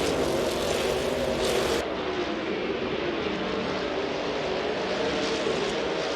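Trans Am race cars roaring off the start in Gran Turismo 2 at Grindelwald, Switzerland, a dense, steady wall of engine noise from the whole pack that holds at full loudness throughout.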